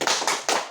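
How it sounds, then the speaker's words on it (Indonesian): A group claps the rhythmic tepuk mantul cheer in unison, three sharp clustered claps spaced evenly and close by. "Kita beri tepuk mantul sekali lagi."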